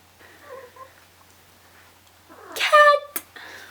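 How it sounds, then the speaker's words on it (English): A house cat meows a couple of times, soft at first and then a louder, drawn-out cry with a sharp tail, close by in a quiet room. "Cat!"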